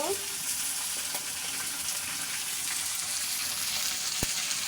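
Chicken gizzards, liver and feet frying in a hot pan give a steady, close hiss of sizzling oil with a faint scrape near the start and one sharp click toward the end.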